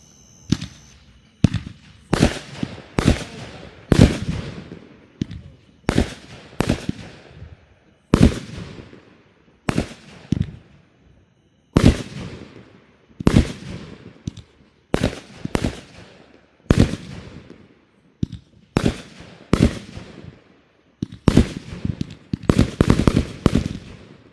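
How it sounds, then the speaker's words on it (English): Raccoon Fireworks 25-shot salute cake firing in a backyard, a rapid run of loud, sharp bangs in irregular bursts that grow denser toward the end, with no talking. "we got 25 salutes, Raccoon Fireworks"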